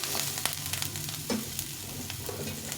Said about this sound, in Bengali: ফুলকপিটা একটু ভেজে নেব সব সবজিগুলো সুন্দরভাবে ভেজে নেব